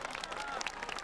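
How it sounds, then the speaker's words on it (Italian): An audience at a comedy show at the Vicenza Festival Show claps in a light, brief burst of scattered applause, fairly faint, with a voice overlapping it. "Un applauso va solo per l'abbigliamento."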